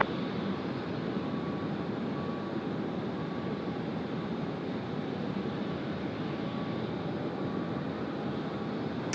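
A Velocity airliner takes off from runway 16 right at Sydney Airport, its jet engines a steady, broad roar that holds evenly throughout without any voices.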